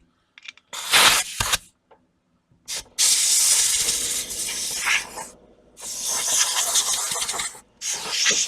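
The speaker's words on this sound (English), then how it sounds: "Let me grab the air hose." A compressed air hose blows out debris while working on an 1981 GMC C10 square body door jamb, sharp loud hissing bursts, a couple of short ones and then longer blasts with brief gaps, close up.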